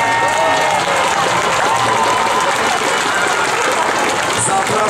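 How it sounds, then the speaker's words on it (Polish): Loud, sustained applause and crowd cheering for the winners at the finish of the 68th Tour de Pologne cycling race in Kraków, a dense steady roar of clapping with a high whistle near the end. "brawa dla zwycięzców!"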